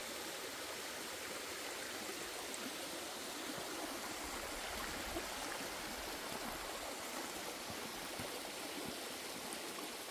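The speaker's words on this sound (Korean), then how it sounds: "시원한 물소리가 들리면 들어가도 됩니다." A mountain stream near Yongchu Falls rushes steadily and close, a dense broadband wash of flowing water with no pauses and no voices.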